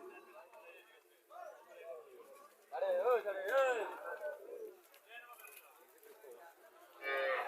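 A Haryana cow at a village cattle market in Chauddagram lets out a drawn-out moo in the middle, with softer lowing around it, over outdoor market noise and people talking nearby.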